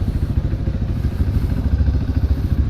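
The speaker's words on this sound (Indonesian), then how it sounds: "Aman Sentosa motor si Entong" A touring motorcycle's engine runs steadily at close range, a low rumbling drone with slight rhythmic pulsing and no talk over it, before a ride toward Geopark Ciletuh.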